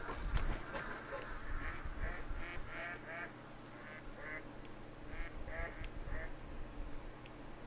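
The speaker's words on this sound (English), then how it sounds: "Oh, there's ducks." Ducks quack in the hunting game theHunter Call of the Wild, a series of distant nasal calls in short bursts, several in quick succession, over a low outdoor rumble of wind and ambience.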